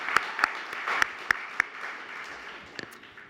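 Sparse applause at an award event for health advocacy, a few sharp claps standing out near the microphone over a soft, diffuse spatter of clapping in a hall, thinning out toward the end.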